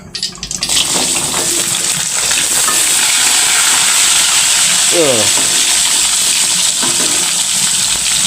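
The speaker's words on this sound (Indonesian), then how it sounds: "Langsung goreng jengkol." Dense sizzling and popping of jengkol beans frying in oil, close and constant, with a short clatter at the start.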